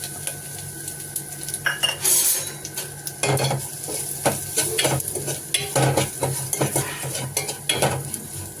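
Rasam powder being stirred into a frying pan, with a spoon scraping and clinking against the metal in irregular bursts over a soft, steady sizzle, close and fairly loud, with no talking.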